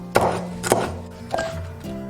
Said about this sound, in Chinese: 一小块生姜切片，2根芹菜切小段